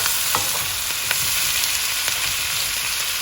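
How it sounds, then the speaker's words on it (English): Half a cauliflower's chopped florets frying on high heat, a steady bright sizzle with a few sharp crackles and pops, close and without talk. "And now I'm going to add the chopped up cauliflower florets, half a cauliflower."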